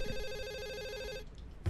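A telephone rings in the horror video game Hazing - Night Shift, an electronic trilling ring that continues steadily then cuts off, followed by a soft thump.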